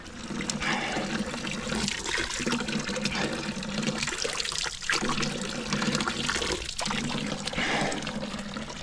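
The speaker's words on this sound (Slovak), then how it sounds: "A čo som našiel fontánku." Water runs steadily from a small outdoor drinking fountain in Liechtenstein in February, a close, continuous splashing trickle that holds at an even level throughout with no talk over it.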